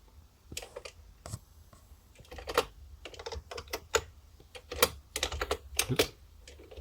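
Typing on an IBM PC keyboard at IBM Cassette BASIC, done one-handed: a sparse, irregular run of sharp clacky keystrokes, close and fairly quiet, with short bursts and pauses and no talk.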